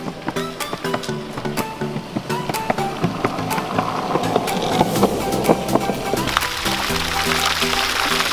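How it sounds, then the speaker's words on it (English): A water fountain splashes steadily in a large walking park, its constant watery hiss filling the background without a break. "a fountain behind me"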